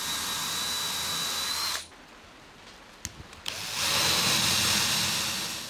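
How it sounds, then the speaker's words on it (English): A power drill bores holes into wood for a tool box cart, whirring loudly for a couple of seconds, stopping briefly with a few small clicks, then starting again. "So I just need to get some holes drilled into the wood."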